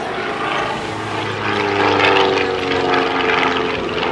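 Pitts S-2A aerobatic biplane at an airshow, its propeller engine droning steadily and loudly through an over-the-top maneuver and 45-degree dive, swelling slightly midway with no talk.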